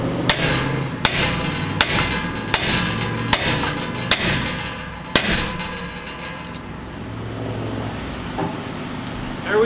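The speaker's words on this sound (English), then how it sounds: "And then as simple as whack it with a hammer." Sharp hammer strikes drive a new valve seat, chamfered side down, into a cylinder head for a press fit, about eight loud metallic whacks in irregular succession before the work falls quiet.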